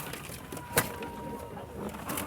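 Pigeons at a pigeon farm give soft, low coos over a quiet background hum, with one brief louder note partway through and no talking.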